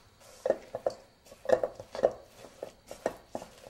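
A spoon works raisins through thick cookie dough in a bowl, giving a series of soft, irregular scraping knocks against the dish, close and steady with brief pauses between strokes.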